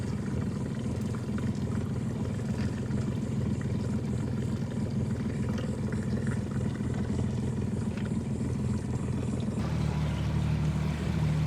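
A boat with a Yamaha 250 horsepower outboard, about 24 feet long, runs steadily on a bay in Destin, Florida, giving a continuous low engine drone with water noise that swells slightly near the end.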